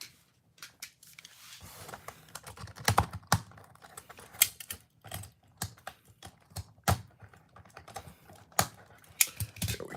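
Crinkling, tearing and rustling of plastic and cardboard as a Transformers Elita-1 figure is pulled from its packaging, irregular close clicks and scrapes at low volume with no talk.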